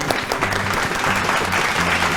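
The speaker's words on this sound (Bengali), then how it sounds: "জোরে একটা হাততালি" Studio audience applause on a Bengali family game show, continuous clapping from a crowd with a faint tonal music bed underneath, steady and fairly loud throughout.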